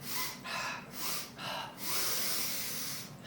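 A three-part inhale followed by a one-part exhale during a breathing exercise: three short, close sniffing breaths in, then one longer rushing breath out, followed by another short intake.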